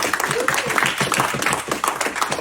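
Steady audience clapping at a live talk, a continuous close wash of many hands with no break.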